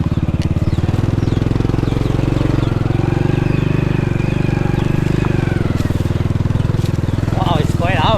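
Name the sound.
motorcycle riding up a jungle trail with no road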